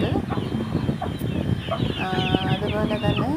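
BV380 chickens raised in a coop cluck and chatter steadily at moderate distance, with a few rising calls near the end and faint background noise throughout.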